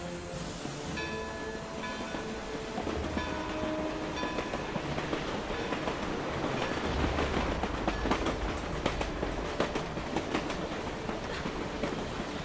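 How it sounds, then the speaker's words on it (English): Train rolling along rails in the video game Assassin's Creed Chronicles: Russia, a steady rumbling ride with a dense metallic clatter and a swell of louder rattling midway, continuous throughout with no talk. "The train has taken me as far as it can."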